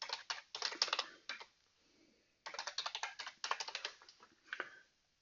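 Someone types a username and password on a computer keyboard, with close, dry key clicks in quick runs broken by short pauses.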